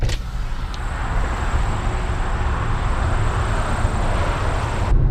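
Heavy road traffic heard from inside a car stuck in a jam, a steady broadband rumble of engines and tyres with a faint high whine running through it.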